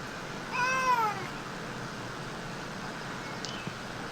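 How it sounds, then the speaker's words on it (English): A cat in Magic: The Gathering Arena gives one clear rising-and-falling meow over a steady background hum, followed by a faint short chirp later on. "Our little in-game cat's meowing at us"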